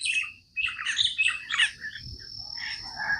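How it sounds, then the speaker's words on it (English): Several birds chirp and tweet outdoors in quick, overlapping bursts, fairly near, over a soft bed of insect buzz and low rumble, with no voices. "There's so many birds around here"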